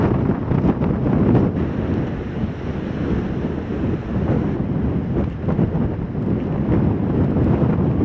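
Strong, gusty wind on the exposed Scottish island of Great Cumbrae, in the small streets of Millport, roars and buffets the microphone in a loud continuous rush without pause.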